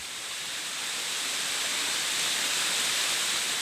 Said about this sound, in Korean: 그 끝에 시온슬에 떨어지는 폭포를 만났다. 양산의 명소인 홍룡폭포다.